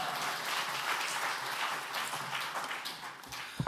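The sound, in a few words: church congregation applauding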